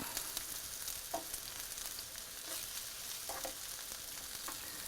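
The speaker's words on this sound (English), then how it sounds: "And then we are going to saute it for about 8 minutes." Chopped red and orange peppers and portobello mushrooms sauté in a pan with a soft, even sizzle, broken by a few brief stirring scrapes; fairly quiet and without voices.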